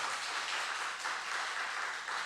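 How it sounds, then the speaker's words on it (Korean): A church congregation at a Friday worship service applauds to welcome a young man returning to church, a steady wash of many hands clapping at moderate distance, alone without talk. "큰 박수로 좀 환영해 주시면 감사하겠습니다"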